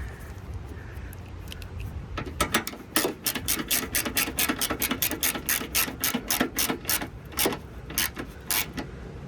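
A screw being hand-turned into a headlamp on a 2002 Ford Focus, a rapid series of ratcheting clicks that start after a couple of seconds and keep a steady rhythm, close and clear, with no talking.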